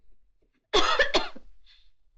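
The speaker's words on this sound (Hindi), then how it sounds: "डॉक्टर साहब, मुझे खांसी भी आती है।" A single close cough in two or three quick harsh bursts, following near silence.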